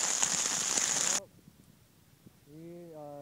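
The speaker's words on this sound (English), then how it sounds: "gonna have to walk in the rain today" Steady rain hisses for about a second on the Appalachian Trail, near and even, then cuts off abruptly into quiet before a voice starts talking.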